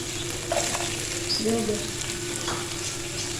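Carrots go into a pan of cooking chicken for chicken macaroni, and a steady close sizzle and frying hiss runs throughout with a few soft stirring clinks, no talk.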